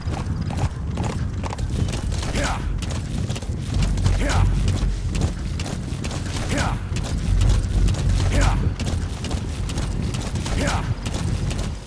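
Galloping horse hoofbeats in Metal Gear Solid V: The Phantom Pain, a steady rapid clip-clop at close range with occasional whinnies and some background game noise.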